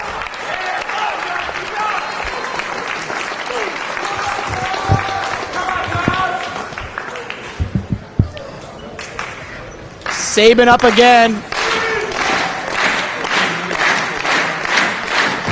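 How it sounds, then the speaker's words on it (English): A wrestling crowd at an IWA-MS Ted Petty Invitational 2005 match claps and cheers in rhythmic bursts, swelling loudly near the end, under an excited commentator's voice. "The crowd all chanty, clappy, clappy."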